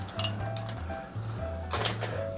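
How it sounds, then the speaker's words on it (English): Ice cubes drop and clink into a glass fishbowl shaped like a hand grenade while a cocktail is made, giving a few close, bright rattling clinks over a low steady hum. "So we're gonna add some ice into our hand grenade shaped glass."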